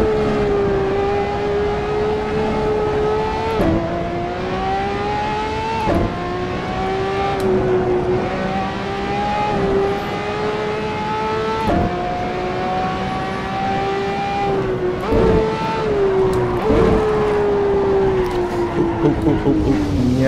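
Ferrari 599XX Evo race car in the Assetto Corsa racing game, its engine screaming at high revs with steady sustained tone and sharp drops at each upshift, several gear changes in a row, loud and continuous.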